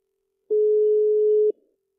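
A single steady electronic telephone tone from a phone call, one clean sustained beep lasting about a second, loud and isolated against silence.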